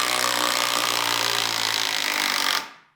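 Kress KUB61.91 20V brushless impact driver backing a screw out in reverse, a steady loud whir that runs about two and a half seconds, then cuts off abruptly as the auto-stop kicks in.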